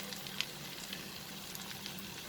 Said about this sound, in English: This is the time we will add the masala that we have prepared, grinded.